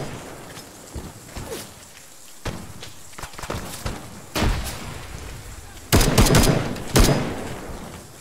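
A frag grenade goes off in an Arma 3 firefight in a trench line, one of several loud, sharp blasts scattered among footsteps and gunfire, with the heaviest bursts landing near the end.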